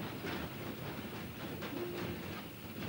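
A train runs on rails as a steady rumbling roar with a faint rhythmic clatter of wheels. A thin high squeal rises briefly partway through, and no one speaks.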